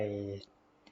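A computer mouse gives two faint, quick left clicks while someone edits in Wondershare Filmora, heard just after a voice stops speaking.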